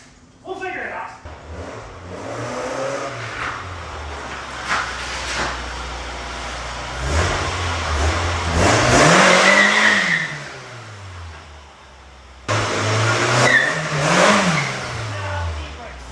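A Mazda Miata's engine revs in rising and falling surges as the car is driven into a garage, fairly close and loud, with people talking over it.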